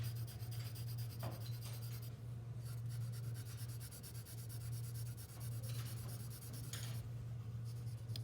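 H pencil shading a drawing of a cone and cylinder on paper, a close, continuous scratchy rubbing of graphite in back-and-forth strokes over a steady low background hum, no talking.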